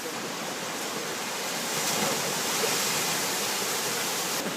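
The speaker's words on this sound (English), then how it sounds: "The first attraction of the day is the Morpang Waterfalls." Water at Mor Pang waterfall in Thailand rushes in a dense, continuous, fairly loud roar, steady from start to finish.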